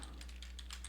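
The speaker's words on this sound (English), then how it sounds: "I'm just going to type" Quick, quiet keystrokes on a computer keyboard, a short run of light taps at an even pace with a faint hum underneath.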